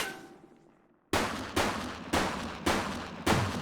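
Gunfire in The Precinct: after a brief fading tail, five loud, sharp shots ring out at an uneven pace about half a second apart, each with a ringing decay.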